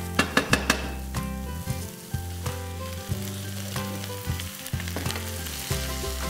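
Onions browning in a pan until nicely roasted for Krautfleckerl, a steady close sizzle with sharp clinks and scrapes of a utensil against the pan, no talking.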